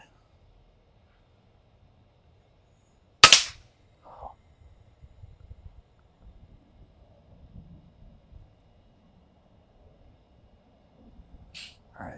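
An FX Impact Mark III air rifle fires a single sharp crack, followed by a faint thud and quiet outdoor rustling, and there is a small click near the end.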